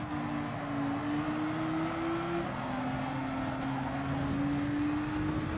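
Race car engine in Gran Turismo 7 holding a steady, loud drone whose pitch climbs and shifts as it accelerates, continuous throughout with no voices.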